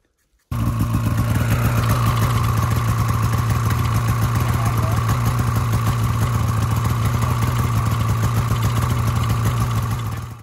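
A snow bike engine runs loud and close at a steady, fast idle, starting abruptly and holding an even rumbling drone for about ten seconds.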